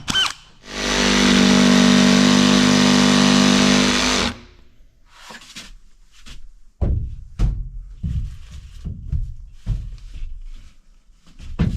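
A loud power drill with a masonry bit whines steadily for several seconds while drilling a hole during house construction, then stops, followed by knocks and thuds of handling tools and material nearby.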